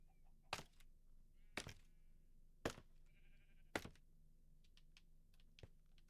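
Sheep in a livestock paddock in Minecraft: Bedrock Edition let out short bleats amid quiet ambience. Four sharp clicks or thunks land about a second apart, and fainter ticks follow near the end.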